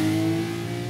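A car engine revs in a Batman film scene, a steady mid-pitched drone with a strong tonal hum, loud and close, with no talking over it.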